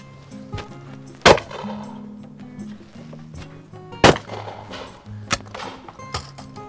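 Shotgun shots fired at a low-flying clay grouse target, heard as two sharp, loud blasts spaced a few seconds apart, each with a short ringing tail, plus a few fainter clicks and thumps between them.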